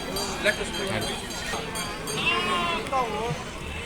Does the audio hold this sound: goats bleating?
yes